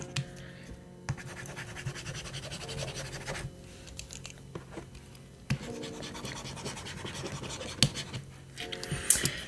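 A Staedtler Jumbo pencil's eraser rubs back and forth on a reMarkable 2 screen, making close, dry scratchy strokes in uneven bursts with brief pauses between them.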